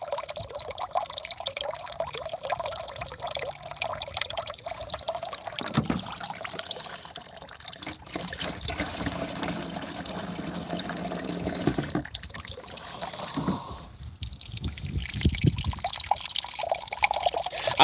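Water poured and trickling in a home that has gone days without running water, a faint, uneven stream with drips and pauses that continues at low volume for the whole stretch.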